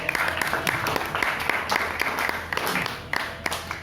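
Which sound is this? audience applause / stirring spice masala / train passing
audience applause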